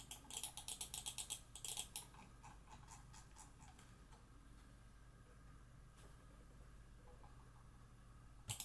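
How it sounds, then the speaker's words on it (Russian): Mouse buttons on an IO Nova wireless gaming mouse with Kailh Blue GM 8 switches click in a quick run of about a dozen sharp, close presses, then a long quiet stretch and two final clicks. "Громкость щелчка тут выше среднего, но я бы не сказал, что прям очень громко"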